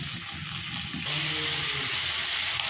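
Water runs from a tap, a steady close splashing rush that grows fuller partway through, as though the flow is turned up or a vessel begins filling in a kitchen sink.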